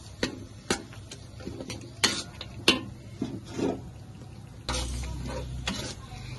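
Whole spices, star anise, cardamom, cloves and cinnamon, are stirred in a pan of oil with a soft sizzle. A spatula scrapes and clinks on the metal in irregular knocks, and a denser burst of frying follows near the end.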